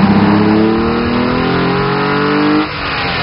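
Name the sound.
2010 Hyundai Genesis 3.8 GT Coupe engine revving while driving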